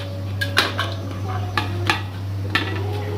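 Boiled, chopped potatoes drop into a bowl for papri chana chaat, giving several light clinking knocks against the dish over a steady hum, with no talking.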